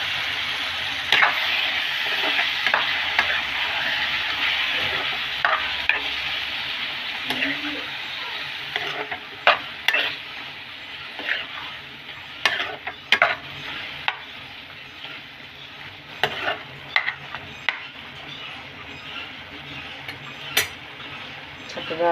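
Drumstick pieces, tomato and onion cooking down in a pan, with a low steady sizzle and scattered scraping clinks as a spoon stirs now and then.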